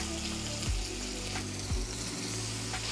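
Pork intestines hit a hot, lightly oiled wok with a steady, loud broadband sizzle and a couple of louder thumps as pieces drop in.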